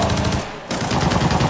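Rapid gunfire, likely from an MK14 rifle, rattles in the shooter game Arena Breakout: loud, close bursts of shots with a brief gap partway through before the firing resumes.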